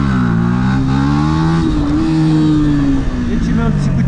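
A Yamaha R125 motorcycle revs hard as the rider pulls a wheelie, the engine note climbing and holding in a loud, close whine before easing off, with someone talking over it.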